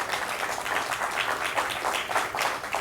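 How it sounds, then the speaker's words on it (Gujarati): An audience at a Paryushan literature gathering claps for two speakers, a soft, even patter of many hands that carries on steadily from start to finish. "બંને વક્તાઓને આપણે તાળીથી અભિવાદન કરીશું"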